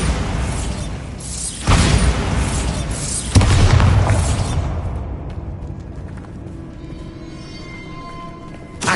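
Bombarda blasting spell in Hogwarts Legacy, booming explosions with a couple of loud bursts and rumbling debris that fades into a quieter ambient tail.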